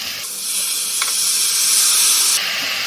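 Tomatoes drop into a pan of fried onion, garlic and ginger, setting off a loud, sustained steamy hiss that swells and then cuts off sharply, with no talking.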